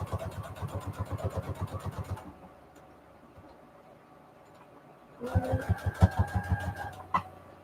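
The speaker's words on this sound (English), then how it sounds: "I think I'm going to sew one line down the middle because it's a little like pillowy" A sewing machine stitches a fabric junk journal pouch in two bursts of rapid rhythmic clatter, close and moderately loud, separated by a quiet pause with faint handling.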